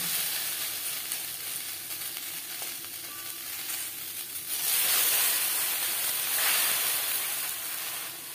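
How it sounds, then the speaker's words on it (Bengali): Chopped taro leaves steam and sizzle in a kadai with a close, continuous hiss that swells suddenly halfway through, then surges again before easing slightly. "কড়াইতে আমি ভাপিয়ে নেব, এতে বাটতে সুবিধা হবে।"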